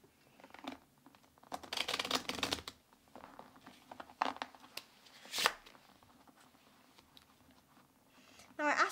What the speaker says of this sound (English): give the deck a quick shuffle